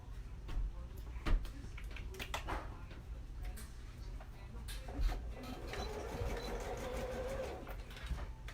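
A sewing machine runs straight stitches along a seam of track pants fabric, an uneven mechanical rattle and ticking with a low motor hum, starting and stopping in short bursts.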